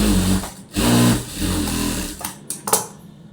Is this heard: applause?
no